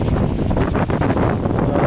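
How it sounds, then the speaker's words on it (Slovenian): Strong wind buffets a sailboat on the open Pacific, a continuous loud rushing roar with gusty fluctuations and no voices. "Zdaj imamo kar nekaj vetra."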